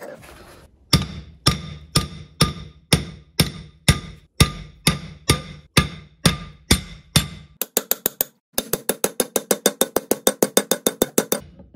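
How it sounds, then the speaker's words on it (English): A 2-pound Tekton hammer drives a driver rod to seat the gimbal bearing in the housing of a Mercruiser Alpha One Gen 1 outdrive. About a dozen loud, evenly spaced metallic strikes are followed by a fast run of quicker blows, close and without speech. "I will begin hammering this in with my 2-pound Tecton hammer"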